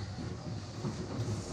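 Rumbling rail noise from a cartoon train arriving at a station platform, a steady low clatter and roar held at a faint level throughout, with no voices.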